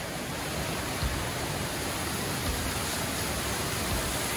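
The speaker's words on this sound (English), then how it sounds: "See, look at waterfall them can go on now." A waterfall in Jamaica roars as a dense, steady rush of falling water, loud and unbroken from start to finish.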